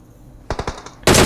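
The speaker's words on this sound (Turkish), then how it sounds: "Bayağı burada bir çatışma bayağı çatışma var da." Bursts of automatic gunfire crack out in a video game firefight, a few quick shots followed by a loud sustained burst at the end, close and sharp.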